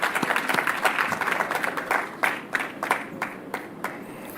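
Audience applause at a healthcare worker appreciation event in Jamaica, a dense steady clatter of clapping that thins toward the end into a few scattered, louder individual claps.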